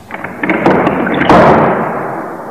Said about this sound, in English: The door opened just enough for Cathy to get inside.